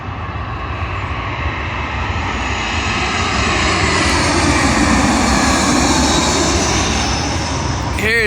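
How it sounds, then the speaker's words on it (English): A British Airways Airbus A320 landing at London Heathrow runway 27L, a loud continuous jet roar that builds gently and holds steady as it passes close by, with no voices. "Arriving in now is a British Airways Airbus A320 from Jersey, which is in the Channel Islands,"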